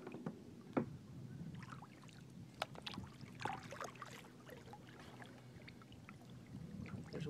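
Kayak paddling on calm water, with soft dips, splashes and trickling drips from the paddle at an irregular pace, quiet and close in a still outdoor setting.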